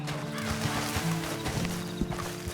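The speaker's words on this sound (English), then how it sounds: "And you better get on this horse." A horse whinnies and its hooves clop in the video game Red Dead Redemption 2, heard close against dense background game sound, with short overlapping calls and footfalls across the whole stretch.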